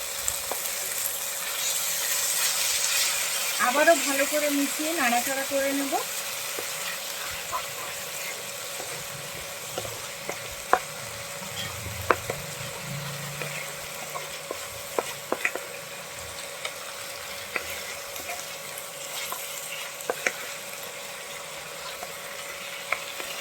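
Spice paste of salt, turmeric, cumin and coriander mixed in water sizzles steadily in a pan for a potato and pointed gourd curry with small shrimp, with occasional sharp clicks of a spoon against the pan.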